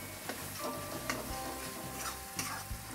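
Garlic and ginger paste is stirred and mixed in a pan for a spicy Maharashtrian chicken dish, a faint continuous hiss with soft, regular ticking scrapes of the spoon.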